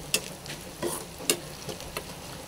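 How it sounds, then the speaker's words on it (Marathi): Onion frying in a pan for a vegetable curry gives a steady close sizzle, broken by a few sharp scraping stirs of the spoon, with no talking. "हे बघा चांगला मी भाजून घेते कांद्याला।"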